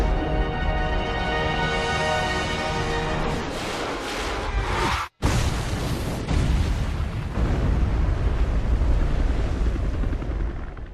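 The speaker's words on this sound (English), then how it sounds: "they slam 2 rockets down his throat and end his bloodthirsty quest for power" Rocket explosions in Resident Evil 5's final fight against Wesker: a loud roaring blast that cuts to a brief silence, then a second heavy, rumbling explosion that lingers amid volcanic noise.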